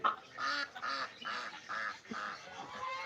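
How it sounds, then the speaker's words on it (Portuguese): African geese honk at an outdoor bird market, a run of loud, rhythmic nasal calls repeating about twice a second, close by and with no talk over them. "Tem os gansos aqui africanos."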